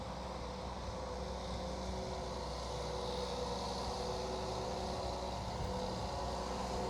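An Amazone sprayer is driven along, heard from inside as a steady, broadband engine and road rumble with a constant low hum and no breaks.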